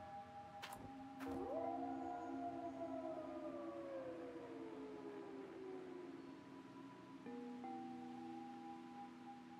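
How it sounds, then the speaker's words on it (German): Wolves howl in the game Gold Rush The Game, a long rising and slowly falling tonal howl with a second voice joining later, fairly distant and sustained over a quiet background, after a couple of sharp clicks at the start. "Eindeutig Wölfe."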